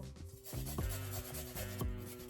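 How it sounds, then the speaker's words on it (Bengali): Fresh ginger is rasped on a grater over ground lentil paste in a few quick, soft rubbing strokes, quiet and close with no voices. "এইভাবে একটু আদা কুড়িয়ে দিয়ে দিব।"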